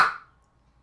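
A single bright tongue click imitating the slap of a hand drum, sharp and close, decaying almost at once into silence.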